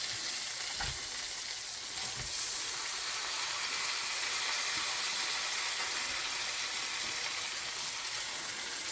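Cube steak frying in hot grease, a steady close sizzle and crackling hiss throughout, with a couple of soft knocks near the start.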